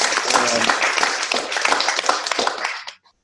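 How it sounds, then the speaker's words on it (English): Applause from staff at a company meeting: a dense burst of clapping that fills the room for about three seconds, then stops abruptly. "So big applause for those guys."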